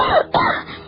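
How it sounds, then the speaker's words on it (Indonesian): In an Indonesian radio drama, an ailing father coughs blood, heard as two quick, close, rasping coughs in a row with no talk around them. "Batuk-batuk ayah mengeluarkan darah."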